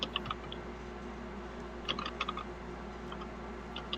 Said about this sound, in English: Sorry, I'm typing it up.